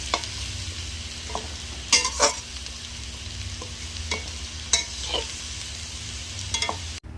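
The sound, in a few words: frying turmeric-salted potatoes in oil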